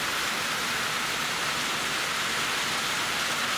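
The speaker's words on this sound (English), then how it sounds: "It's pouring rain." Heavy rain pours down outdoors near a tour stop in New Orleans, a dense, even hiss that fills the whole moment with no speech.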